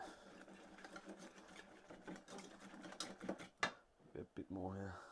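Acorn batter is whisked with beer in a bowl, giving quick irregular scraping and clinking strokes at close range, with a short louder burst of mixing near the end.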